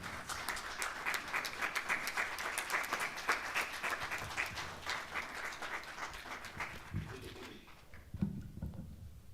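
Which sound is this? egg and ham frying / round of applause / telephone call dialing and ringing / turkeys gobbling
round of applause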